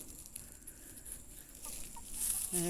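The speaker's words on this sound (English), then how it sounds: "Chickens are wanting me to give them something." Hens cluck in short bursts near the end, rising over a steady outdoor background hiss.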